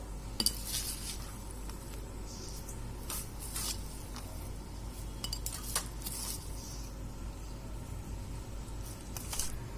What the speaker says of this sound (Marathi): आता सर्वप्रथम आपण या भाजणीच्या पिठामध्ये सर्व कोथिंबीर घालून घेणार आहोत।